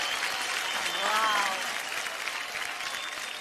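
Studio audience applause on the Indian Idol singing competition stage, a dense sustained clapping that swells briefly and holds steady, with a voice briefly audible over it.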